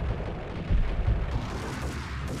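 Gunfire and heavy booms from the Max Payne video game, dense low rumbling blasts running throughout with a louder burst near the middle, no talk.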